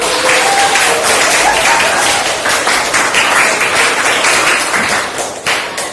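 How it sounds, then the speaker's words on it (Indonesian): Class participants applaud together in a steady, dense wash of clapping that holds loud and even for several seconds before easing slightly at the end. "Oke, sekali lagi tepuk tangan dulu untuk kita."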